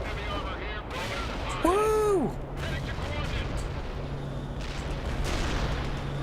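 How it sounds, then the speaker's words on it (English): Artillery strike in World in Conflict: distant booms and rumbling impacts under continuous battle noise, with a brief falling whistling tone; voices talk over it. "Artillery strike was on the mark."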